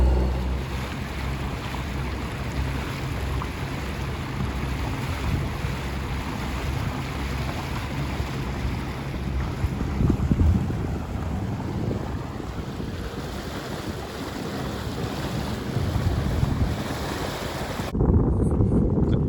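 Steady wind buffets the microphone aboard a small sailboat under way, with a continuous low rush of air and water. Gusts rise briefly near the middle and end, and the sound cuts out suddenly just before the close.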